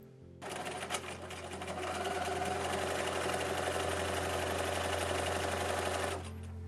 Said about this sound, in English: So after I cut everything out, I seamed the bags together.